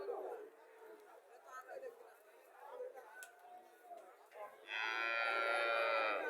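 A dairy cow at a village cattle market in Comilla gives one long, loud moo near the end, after a stretch of people chatting in the background.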